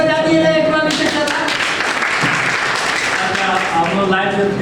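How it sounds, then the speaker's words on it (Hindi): A group claps in a classroom or teacher training session, a short burst of hand claps rising in the middle between stretches of close speech, with a voice talking over the start and end. "अभिषेक सर है, ताली बजा दिए एक बार अभिषेक सर।"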